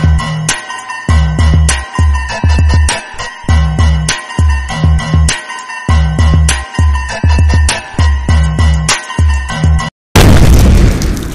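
A Diwali firecracker bomb bursts with a sudden loud boom at the very end, after a stretch of steady rhythmic music beat.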